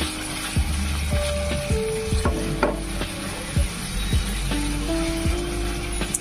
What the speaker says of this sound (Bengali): 2 to 3 টেবিল স্পুন জল আমি এখানে অ্যাড করব, করে নিয়ে এটাকে কষিয়ে নেব